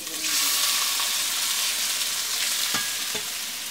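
Food fries in hot mustard oil in a rural home kitchen, a steady loud sizzle running throughout with a couple of brief scraping stirs near the end.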